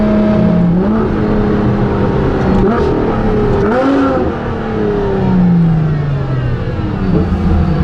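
A Ferrari LaFerrari hybrid supercar engine revs loud and close, its pitch rising and falling through repeated acceleration and gear shifts, with someone talking over the snarling roar.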